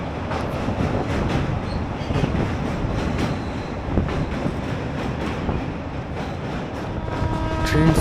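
Inside the Tebhaga Express passenger train running from Balurghat toward Kolkata, a steady loud rumble of wheels and carriage noise fills the whole stretch, with faint clicks over the rails.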